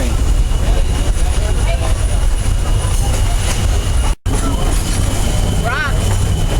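Steady rumble and rattle of a moving train passing through a rocky cut on the Panama Canal route, with continuous wheel and carriage noise and voices talking over it.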